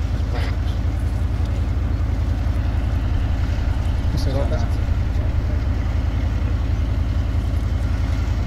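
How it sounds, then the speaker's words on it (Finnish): A military vehicle engine idles in the Arma 3 video game, giving a steady low, throbbing drone with a rapid, even pulse that runs unchanged throughout. Faint radio chatter sits underneath. "Joonas, sammuta moottori."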